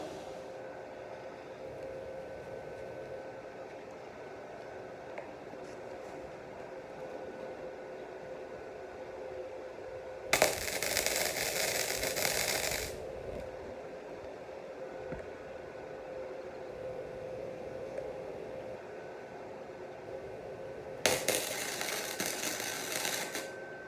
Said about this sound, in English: All right, so I got the midsection welded up.